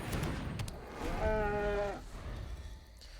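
A single drawn-out cow moo from the Bartered Cow card in Magic: The Gathering Arena, rising clearly for about half a second over a low background murmur of game ambience.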